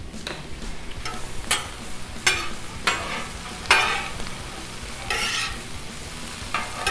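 Chicken and cabbage stir fry cooking on a Blackstone flat-top griddle, a steady close sizzle broken by a series of scraping stirs from a spatula at irregular intervals, with no talk.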